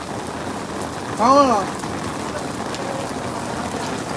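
Steady rain pours over the hill town of Lavasa, an even wash of drops throughout, with a short spoken word rising briefly above the downpour near the start.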